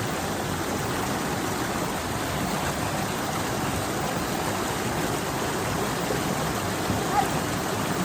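A river stream in Tai Shing Stream, Hong Kong, rushes steadily on a rainy trekking day, a continuous broadband wash of flowing water close by, unbroken and without talk.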